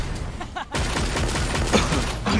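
Rapid volleys of gunfire and blasts from the Blaster class's turret artillery in the online game Lost Ark, a dense, continuous barrage with a brief gap, loud and close throughout.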